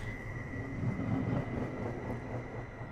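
A Caltrain electric multiple unit accelerates with a steady rumbling roar and a sustained whine, heard from nearby with no talking.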